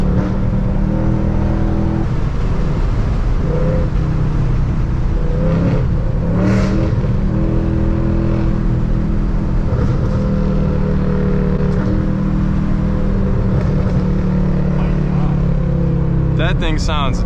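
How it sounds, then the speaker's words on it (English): A Whipple-supercharged S650 Ford Mustang's engine rumbles and revs loudly up close, its exhaust crackling with pops and burbles. "After you get the Whipple on here, that's when you start getting these pops and burbles"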